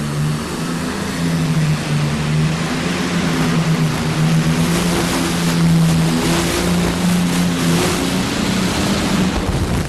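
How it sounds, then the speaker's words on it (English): A powerful pulling tractor engine with twin turbochargers roars loudly and steadily, its deep droning tone holding with bursts of rough crackle as fuel backfires into the turbos, no voices over it. "A little fuel backfired back into those twin turbochargers."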